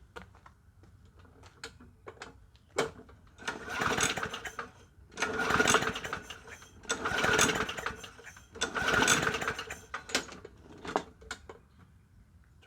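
A 20-inch Yard Machines push mower engine sputters and catches in four rough surges, each a few seconds of uneven chugging that dies back, with scattered clicks and pops between attempts.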